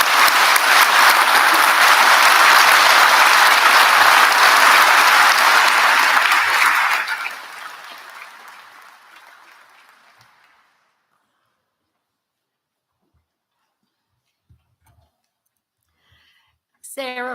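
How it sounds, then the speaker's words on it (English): Loud, dense applause from a graduation audience honoring a group of graduates, holding steady for about seven seconds before fading out to silence; a voice starts speaking right at the end. "And we'll have a round of applause for all that group."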